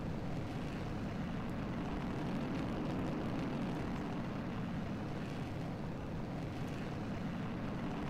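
A rocket engine test firing in the Kerbal Space Program video game gives a steady, dense roaring rumble that holds at an even level for the whole stretch, fairly faint, with no talk.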